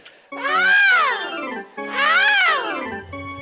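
A voice mimics a mobile phone ringtone, singing two loud, rising-and-falling tuneful swoops in a row up close.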